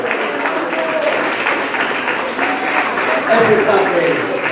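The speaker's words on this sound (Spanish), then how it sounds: "Un fuerte aplauso al Señor." A church congregation at an annual fellowship gathering in Basuchil, Chihuahua, claps steadily throughout as one dense, sustained wash of applause, with a voice speaking loudly over it.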